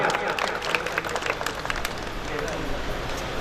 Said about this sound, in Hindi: जोरदार स्वागत, तालियां।